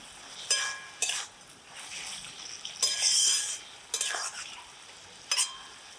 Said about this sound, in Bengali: এবার এটাও দেব একটু নেড়ে চেড়ে দিচ্ছি